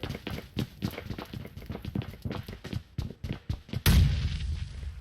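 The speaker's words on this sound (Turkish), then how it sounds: "Bir daha bomba geldi." Bomb blast in PUBG Mobile: a single loud, close explosion lands near the end, booming and rumbling out after a run of sharp thuds and footsteps.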